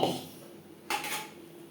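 A brief clatter of a utensil against a pot as tempered bottle gourd and moong dal is added, a single short scrape and pour under a quiet kitchen hum.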